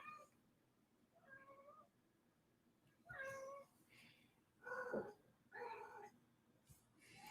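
A house cat meows repeatedly, a series of five or six faint, drawn-out cries spread over several seconds, with quiet room noise between them.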